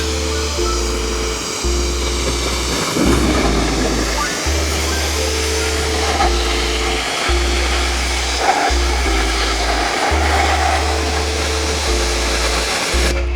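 A car is rinsed with a water spray after a citrus bug-removal cleaner: a loud, constant rushing hiss over a droning pump hum that shifts pitch in steps, with no talking.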